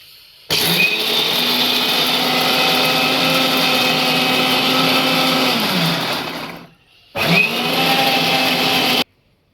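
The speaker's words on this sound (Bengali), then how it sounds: "এখন আর বাদাম ব্লেন্ড করব ব্লেন্ড করে তারপর দিবা কোরমার জন্য" Electric blender grinding nuts for a korma, a loud steady whirring drone for several seconds that cuts out briefly and then starts again, with no talk.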